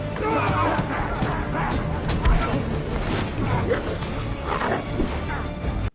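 Attack dogs from The Dark Knight bark and snarl amid crashing and thumping fight noises, several loud barks close by, mixed with a chaotic struggle.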